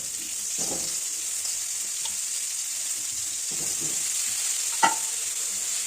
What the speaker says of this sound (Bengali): এবার তাতে আলুর টুকরোগুলো দিয়ে দেব গরম তেলে